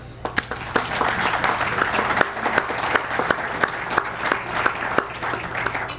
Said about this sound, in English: Please applaud Constable Frank.